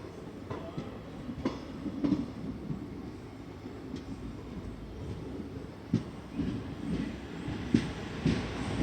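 A train rolls steadily after leaving Badami railway station, its wheels giving a constant rumble with sharp periodic clicks and clacks over rail joints, heard alone without talk.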